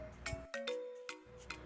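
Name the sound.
bicycle bell ringing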